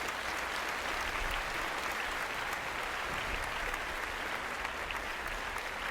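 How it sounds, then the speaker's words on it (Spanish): Church congregation applauding, a broad, even wash of clapping that holds steady from start to finish with no talk over it. "¿Por qué no le dan un aplauso al Señor?"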